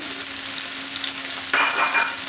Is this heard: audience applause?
no